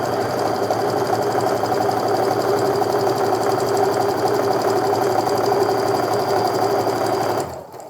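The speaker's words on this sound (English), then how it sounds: "we're gonna sew a scant 1/4 inch seam next to that" A sewing machine stitches a scant quarter-inch quilt seam in a steady, fast, even mechanical whir, close and continuous until it stops abruptly at the end.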